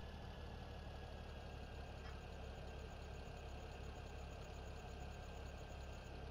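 Tractor engine idling in the Farming Simulator 17 video game, a steady continuous low mechanical hum and drone with a faint high whine, holding level throughout with no talk.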